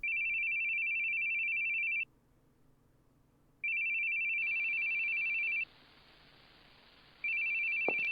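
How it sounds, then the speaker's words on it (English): A telephone rings in a video game, its electronic trill repeating in steady bursts separated by short pauses, loud and clear with faint background ambience and no talking. "I hate the sounds of phones."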